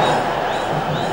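Crowd noise from spectators at a Celebrity Cricket League match between Mumbai Heroes and Kerala Strikers, a steady broad roar of cheering that fills the whole moment without a break.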